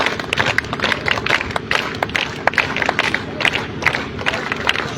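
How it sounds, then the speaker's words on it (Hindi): A crowd at a children's and youth self-defence training camp claps loudly and enthusiastically in dense, irregular bursts that fill the whole stretch, with scattered cheers mixed in. "जोरदार तालियां इनके लिए भी"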